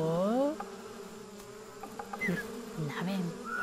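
Flies buzzing in the video game Samorost 3: a short, close insect drone mixed with swooping, tonal ambient game sounds.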